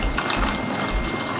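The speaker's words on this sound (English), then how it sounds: "I have this small sieve. I'll just transfer my milk into it." Homemade almond milk poured into a small sieve, giving a steady, close splashing and trickling wash that runs without a break.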